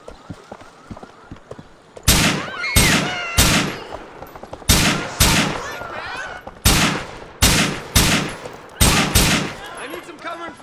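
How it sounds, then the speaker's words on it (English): Gunfire in Grand Theft Auto IV: a series of loud, sharp shots in spaced bursts, roughly ten cracks over several seconds, each with a short ringing tail, after a quieter opening stretch. "we have a firearm discharge on Union Drive East, Lancaster"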